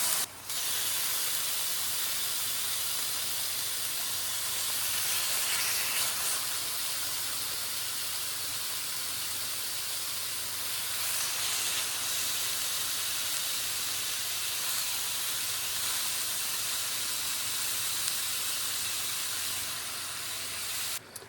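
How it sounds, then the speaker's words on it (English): Beef browning in a hot pan for stew, a loud, steady sizzling hiss that holds almost unbroken throughout. "So as the beef starts to heat up, you're just going to turn it."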